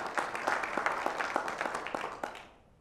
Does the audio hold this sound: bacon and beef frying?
no